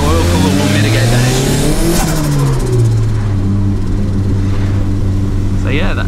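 A turbocharged Mitsubishi Mirage engine revs hard and loud up close, its pitch climbing and dropping through repeated surges before settling into a steady drone.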